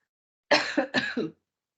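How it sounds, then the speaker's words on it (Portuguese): A short burst of harsh, close coughing, three or four rough hacks in quick succession, then quiet. "Tem uma hora que me dá uma crise de tosse"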